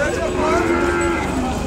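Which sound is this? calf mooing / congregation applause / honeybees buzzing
calf mooing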